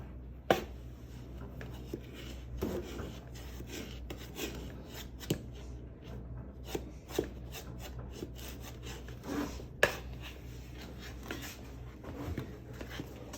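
A fork and spoon stir hot cross bun ingredients in a mixing bowl, giving a steady close scraping and rubbing with a few sharper clinks scattered through, no talking over it.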